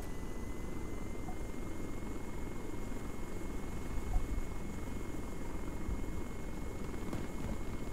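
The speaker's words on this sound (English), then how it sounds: "This helicopter's expensive." A helicopter in the video game ARMA 3 drones continuously with a low, steady rotor rumble and engine whine, loud and close throughout, with no talk.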